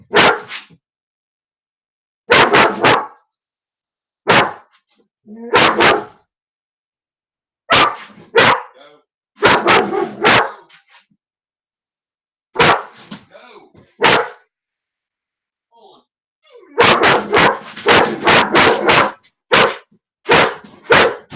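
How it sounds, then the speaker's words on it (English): A pet dog barks near a home chat setup in repeated bursts, sharp clustered barks separated by short silences, with a rapid flurry of barking toward the end. "Sorry about the barking, y'all."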